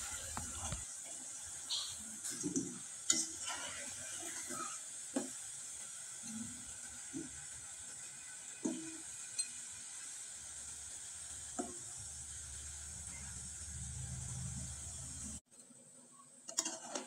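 Potato laddu frying in hot oil, a quiet, steady sizzle with occasional soft clicks and stirring taps, continuing for a long stretch before briefly dropping away.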